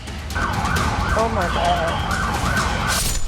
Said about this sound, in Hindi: पुलिस की गाड़ियों का सायरन और ये बैरिकेडिंग